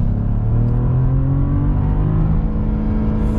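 A 2022 Cadillac CT4-V Blackwing accelerating hard in first gear: a loud, close engine drone whose pitch climbs steadily throughout.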